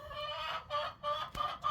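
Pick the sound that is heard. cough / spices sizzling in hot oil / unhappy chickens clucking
unhappy chickens clucking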